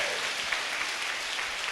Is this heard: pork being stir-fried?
no